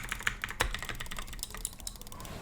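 Rapid clicks of keys on a computer keyboard, irregular and fairly close, with a few sharper taps among quieter presses.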